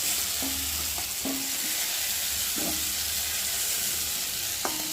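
Steady oil sizzle of small shrimp frying fills the pan continuously, broken by a few scraping stirs of a utensil, with no voices.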